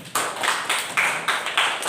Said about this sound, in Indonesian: terima kasih tepuk tangan buat Christina.